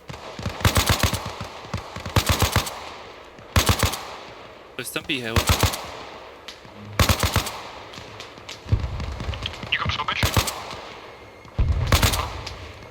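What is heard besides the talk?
gunfire in a video game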